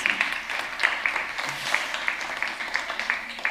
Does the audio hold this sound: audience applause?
yes